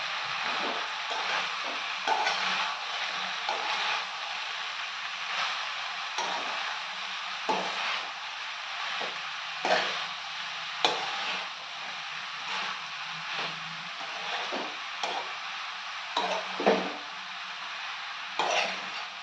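Chopped ridge gourd pieces being stirred into a curry in a hot pan, steady sizzling and frying hiss broken by repeated scraping strokes of a spatula against the pan, close and continuous.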